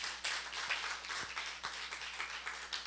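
Church congregation clapping at low volume, a fairly steady patter of many hands with a few sharper individual claps standing out, heard from some distance over a faint background hum.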